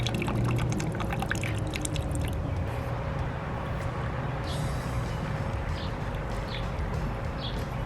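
Purple and red fabric dye being poured into a mix for upcycling clothes: a steady, continuous liquid pour, close and fairly even, with faint outdoor chirps in the background and no talking.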